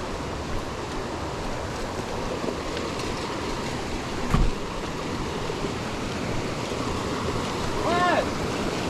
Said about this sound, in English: This is where we climb up the waterfall.